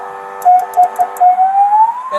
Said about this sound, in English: it has a functioning siren to go with the lights, alternating siren.